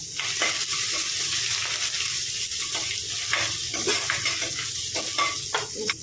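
Chopped ginger and garlic fry in a pan with a loud, continuous hissing sizzle, dotted with quick clinks of a spoon stirring against the metal.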